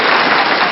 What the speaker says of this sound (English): Do you like the clap?